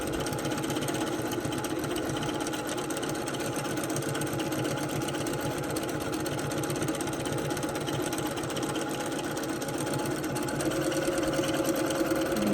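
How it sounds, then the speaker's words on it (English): Sewing machine running steadily during free-motion quilting, a fast, continuous needle-driven whir with a dense mechanical rattle, loud and close with no talk. "you can already hear that my machine's going a little faster"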